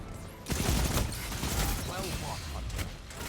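Rapid pulse rifle gunfire in a video game, a dense barrage of shots from several weapons lasting throughout, loud and close, with game sound effects mixed in.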